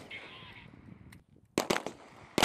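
Marines firing weapons at moving robotic targets on a range, with several loud, close gunshot bursts in quick succession after a stretch of muffled background noise.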